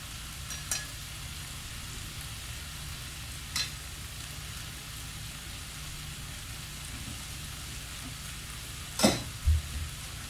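Soft, steady sizzling of beaten eggs hitting a pan for a frittata, faint and continuous, with a few brief clinks of utensils scattered through it.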